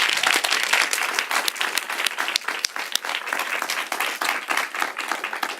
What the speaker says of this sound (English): Let's give these artists a round of applause.